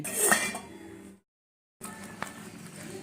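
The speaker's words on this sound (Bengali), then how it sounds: "খানিক বাদে ঢাকনা খুলে একটু নেড়ে দিলাম।" Lid lifted off a pot of simmering tomato sauce and the contents stirred, giving close metallic clinks and scraping against the pot, then a brief silence before softer stirring and a sharp clink.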